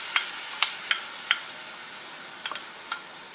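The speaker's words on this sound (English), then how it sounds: "all our aromatics are sauteing" Aromatics saute in an old, slightly warped pot over a soft, even sizzle. Sharp spoon taps and clicks against the pot break in at irregular moments, close and clear, with no talking.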